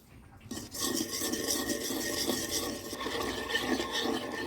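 A spoon scrapes and churns through a thick batter of palm juice, milk powder and rice flour in a bowl, starting after a brief quiet moment and continuing as a steady, close rasping stir.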